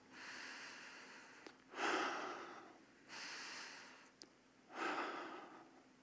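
Slow, conscious meditative breathing is heard close and quiet in a still room. Airy inhales and exhales alternate in long, even waves, a few seconds each, and soft nasal clicks sit between some of them.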